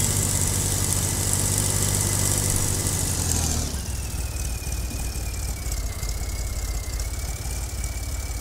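A Swaraj 855 tractor engine strains uphill in Farming Simulator 22. It gives a loud, steady, close mechanical drone, with a whining squeal over it that drops to a lower, rougher engine note about halfway through.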